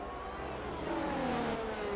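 A race car engine screams at high revs, winding out toward 12,000 RPM during a flying lap, a steady loud whine holding with a rising tonal sweep, up close and with no voices.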